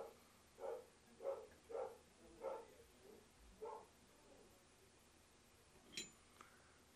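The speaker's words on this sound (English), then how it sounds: "Got Maya barking in the background." A dog barks five times in a steady rhythm, faint and somewhat distant, followed by a quiet pause and a brief metallic clink.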